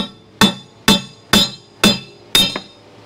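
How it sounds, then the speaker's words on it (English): A hammer taps wheel studs out of a 1962 Corvette rear axle, five sharp metallic strikes evenly spaced about half a second apart, each ringing briefly, close and alone. "take a hammer and just tap these out"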